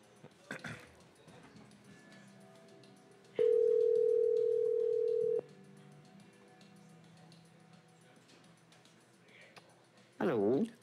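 A telephone ringback tone on an outgoing call sounds as one long steady tone for about two seconds, clear and fairly loud, amid faint background noise, with brief voice sounds before and after.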